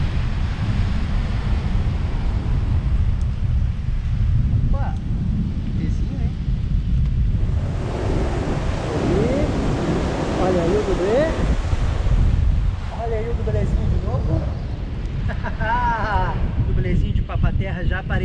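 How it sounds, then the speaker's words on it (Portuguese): Rough, churned-up sea surf after a storm surge rolls in on a fishing shore, a loud continuous wash of breaking waves buffeted by strong wind on the microphone, with people talking over it. "Gosto de pescar logo após uma ressaca, porque deixa o mar bem mexido, bem agitado."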